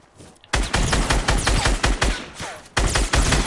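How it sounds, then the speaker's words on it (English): Rapid automatic gunfire in a Fortnite battle royale match: dense bursts of shots fire in quick succession, loud and close, with a brief pause before the volley resumes. "they're shooting at people"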